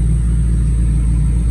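A 1970 Chevelle V8 idling close by, a steady deep low rumble with a faint lumpy pulse, loud and unbroken with no voices over it.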